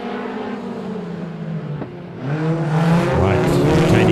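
Stock cars race around a track, their engines building into a loud, sustained roar that swells and rises in pitch as the pack gets going, heard from trackside at a distance with some muffled talk nearby.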